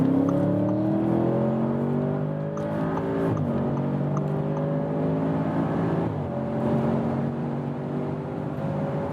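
An Audi S8 with rear axle steering accelerates hard in dynamic mode from 60 km/h toward 200 km/h, its engine rising smoothly through gears in long climbing sweeps with brief dips at each shift, heard from inside the cabin.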